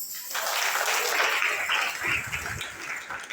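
A church congregation breaks into sustained applause, a dense wash of many hands clapping together that swells quickly and holds steady for several seconds before easing slightly.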